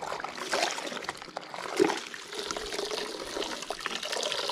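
Soapy water scooped and splashed from a bucket while washing a Gilera Stalker 30 moped, with close, irregular sloshing and trickling that runs steadily throughout.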